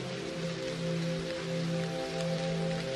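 Steady rain falling as a soft, even hiss under low sustained musical tones, continuous and fairly quiet throughout.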